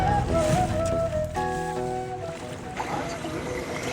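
A zodiac inflatable boat moves on the water in Antarctica, its motor giving a steady, moderately loud droning hum with shifting tonal whine throughout.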